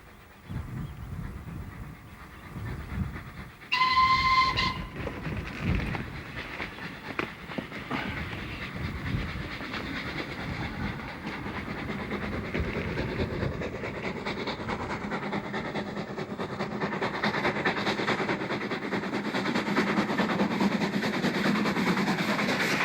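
Steam locomotive 30065 runs past along the line with its train, a short whistle blast followed by rumbling wheels and rail clatter that swell and hold, moderately loud.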